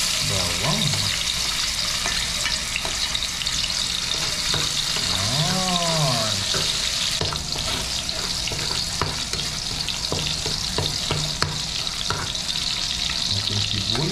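Tilapia frying in a pan, a steady loud sizzle and crackle running throughout with occasional scraping and stirring; no talking.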